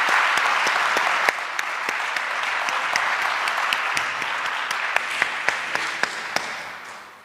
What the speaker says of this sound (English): I think both of them need a round of applause.